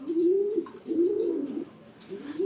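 Breeder pigeons cooing close by, a few soft, low, throaty rolling coos in quick succession with no other sound.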